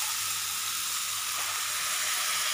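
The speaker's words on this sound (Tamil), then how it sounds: "இதோட பச்சை வாசனை போகிற அளவுக்கும் நல்லா வதக்கிக்கோங்க." Onion-tomato paste sautéing in a pan for mutton kulambu, giving a steady, bright sizzle that hisses continuously and evenly up close with no talking.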